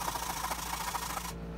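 Steel wool rubbing wetted rust off a metal surface gives a steady, close scratchy scrubbing that stops abruptly near the end, with no talk.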